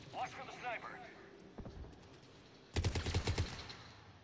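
A sniper rifle and other gunfire in the video game Mass Effect 3 crack as a loud, rapid burst of shots late in the moment, with faint game sounds and a voice earlier.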